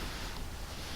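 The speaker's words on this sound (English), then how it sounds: "Water source in the right place this time. Flows round the corner, lovely." Water flows steadily from a placed water source around a corner in a block-building video game, a faint continuous rushing wash without pauses or voices.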